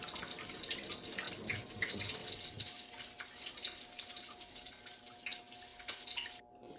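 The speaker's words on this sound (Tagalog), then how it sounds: "may tali guys yung aking gripo kasi para hindi sumisirit yung tubig" Water runs steadily from a home faucet, a continuous splashing hiss that cuts off abruptly near the end, with no voices.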